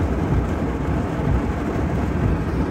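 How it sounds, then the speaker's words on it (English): Heavy rain pours down in a thunderstorm in a parking area, a loud unbroken roar with deep rumbling underneath and no voices. "it is, like, crazy rain"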